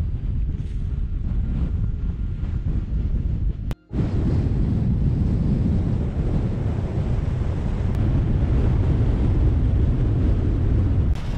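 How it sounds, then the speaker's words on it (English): Strong wind roars outside during a wild camp in the Silvermine Mountains, a loud, constant buffeting rush with gusty surges and a heavy low rumble, briefly cut off once, with no voices. "The wind is crazy outside"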